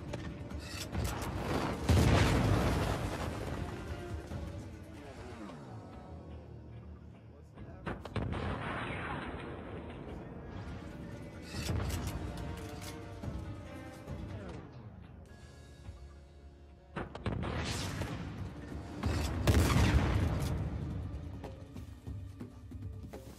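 Gunfire and heavy artillery booms from the World War II shooter game Call of Duty, loud repeated bursts and blasts in waves, with players chatting over the battle noise.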